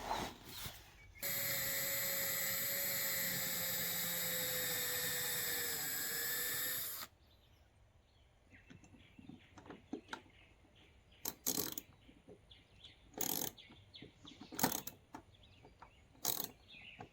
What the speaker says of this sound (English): I'm going to drill a couple small pilot holes and then put some screws in the corners